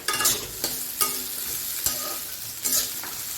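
Chopped onion, ginger and garlic hit a hot pan and are stirred, giving a close sizzle broken by several sharp scraping strokes about every second.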